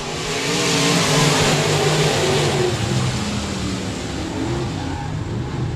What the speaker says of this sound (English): So 6 cars, 8 laps were underway off of 4 at IMC Modified Heat Race number 1.